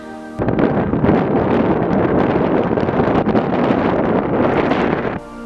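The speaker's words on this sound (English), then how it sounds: "the wind was insane" Strong wind roars over the open salt flats of Death Valley, buffeting the microphone in a loud, continuous rushing blast that starts abruptly and cuts off just as suddenly, with no talking.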